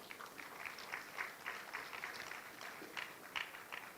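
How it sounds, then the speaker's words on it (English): Faint applause from a conference audience for panelists taking a bow, scattered clapping with uneven bursts, distant and low in level. "Please, a round of applause for them."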